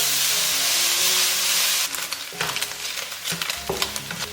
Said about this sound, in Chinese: 炒锅里面加少许油，先把五花肉呢放进来煸出油